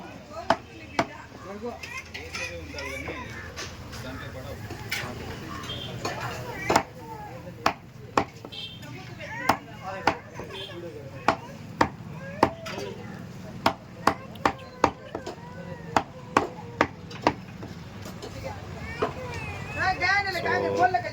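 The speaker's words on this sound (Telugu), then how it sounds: "బోటి కట్ చేస్తున్నాడు." Repeated sharp cleaver chops on goat tripe (boti) being cut for a 20 kg hotel order, irregularly spaced close knocks over steady background chatter and voices.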